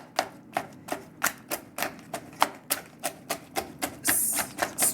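Spoon pressing crab shells through a conical mesh strainer while making crustacean stock, a run of sharp rhythmic crunching clicks, close and fairly evenly spaced, with a slightly heavier scrape near the end.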